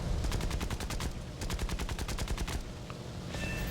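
Rapid machine-gun fire from aircraft in the War Thunder combat game comes in a loud, evenly pulsed burst that slows and breaks off near the end, with fainter engine drone underneath.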